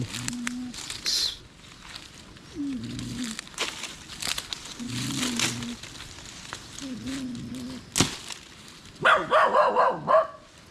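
A mother dog barks in short repeated yips and growly barks, fairly close, spread across the stretch with rustling in between and a louder burst near the end.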